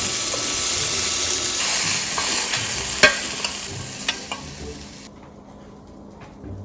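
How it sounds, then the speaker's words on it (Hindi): Chopped garlic, green chili and the white part of green onion fry in a pan with a loud, dense sizzle, broken by a few sharp stirring clicks and scrapes before the hiss drops lower near the end. "1 टीस्पून गार्लिक है इसमें, जो हरी मिर्ची चॉप की हुई थी वो इसमें डालेंगे"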